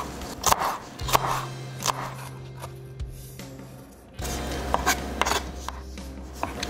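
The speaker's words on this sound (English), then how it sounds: "the real goal here is to get everything to cut up real small, so they could just, you know, fit right into the fritters" A knife chops turkey bacon fritter ingredients into small pieces on a board, giving a run of short rubbing, rasping strokes that are close and fairly quiet, with brief pauses between bursts.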